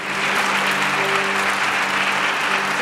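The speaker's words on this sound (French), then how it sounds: "Dale un aplauso a Jesús." A church congregation breaks into sustained, dense applause, a steady wash of many hands clapping at moderate distance throughout, with a faint voice underneath.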